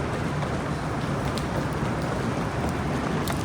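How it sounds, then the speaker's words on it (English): Steady rain falls on a wet day in Vancouver, a dense, even hiss with fine pattering that holds constant throughout, with no voices. "Today is a rainy day"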